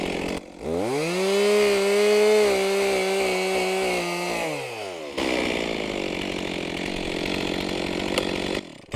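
A chainsaw cuts shagbark hickory into firewood, loud and close, revving up to a steady high whine through the cut, then dropping to a rougher buzzing drone before falling away at the end.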